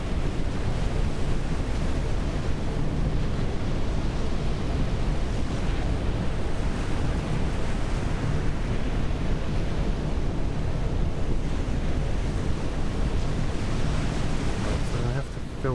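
Sea waves in a ship simulator game rush and surge continuously, a loud broad wash like surf blended with wind noise, steady for the whole stretch.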